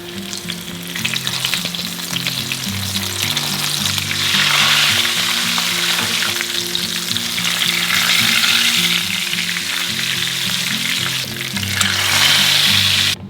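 Tacos frying in hot oil, with escaped onion pieces crackling around them, give a loud, steady sizzle that runs the whole time with slight swells, and a faint tonal background sits underneath.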